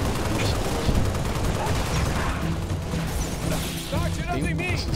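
Halo Reach co-op gameplay with continuous loud gunfire and clattering bursts of shots, mixed with mechanical clanks and a few short warbling electronic effects near the end.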